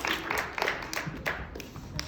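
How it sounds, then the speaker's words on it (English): A church youth-service audience claps briefly as a speaker comes up, a soft, fairly distant patter of light hand claps without talk. "Give her a round of applause as she comes up to share with you what she's done."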